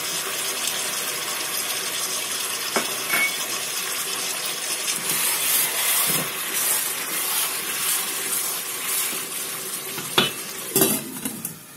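Chicken fries in a pan and gets stirred, giving a steady, close sizzle with occasional scraping and clinks of the utensil against the pan; no talking.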